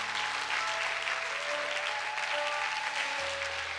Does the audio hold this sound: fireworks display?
no